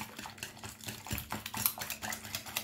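A wire whisk scrapes and clinks steadily in a bowl, beating softened butter by hand for cookie dough, close and fairly quiet in a rapid irregular rhythm.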